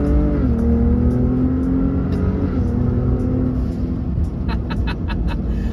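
A Ford Raptor truck engine accelerates with a short throaty exhaust brap on a backroad, then settles into a steady drone, with faint ticking in the background.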